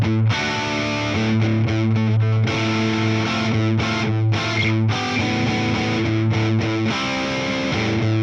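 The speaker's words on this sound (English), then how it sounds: "And now the Maximus Drive" An electric guitar played through the Maximus Drive stompbox on a Fender Tone Master Pro, loud overdriven chords and riffs with sustained notes and brief gaps, no talking.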